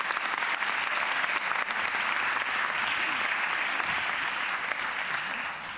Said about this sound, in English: So give yourselves a round of applause as well.